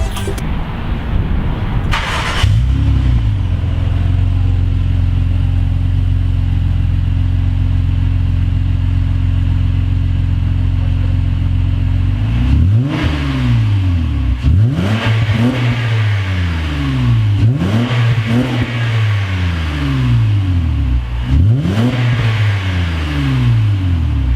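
A 2014 Honda Accord fitted with a Magnaflow cat-back exhaust cranks and fires up, settles into a loud, steady idle, then is blipped through about four sharp revs that rise and fall back to idle.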